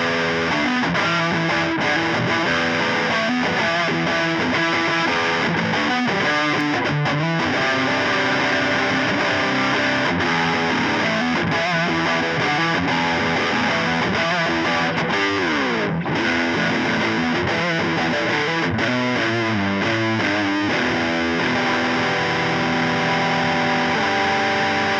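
A Sterling Cutlass CT20 electric guitar played continuously through heavy distortion, dense sustained chords and riffs at a steady loud level with no talking.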